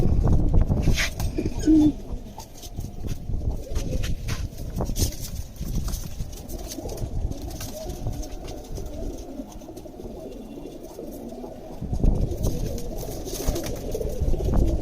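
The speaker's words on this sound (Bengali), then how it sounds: "এখানে যেগুলো পরকাটা কবুতর দেখতেছেন এগুলো কিন্তু ভাইয়ার এক সময় খুব রেজাল্ট করা কবুতর ছিল" Racing pigeons coo repeatedly at close range, their low murmuring calls overlapping, with occasional flutters and shuffling in the background.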